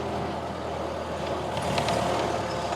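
A restored 1929 Ford Model A fitted with dual rear axles and snow tracks being driven, its engine a steady loud rumble with a slight rise in intensity partway through.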